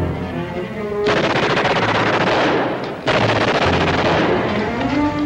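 Machine gun fire in a black-and-white war TV drama: a loud, sustained, close burst of rapid automatic shots that breaks off briefly, then resumes just as hard, with no voices over it.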